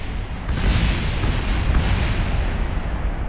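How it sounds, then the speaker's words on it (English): Loud, dense rumbling blasts from rockets crashing in Kerbal Space Program, a continuous booming roar of explosions lasting a few seconds with no talk over it. "How many explosions was that in total?"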